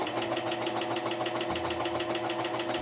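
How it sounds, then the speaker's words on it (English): A serger overlock machine stitches down fabric pieces for a blouse, running in a steady, close, rapid mechanical whir for the whole stretch, with no talking. "start by serging down this piece and down these two"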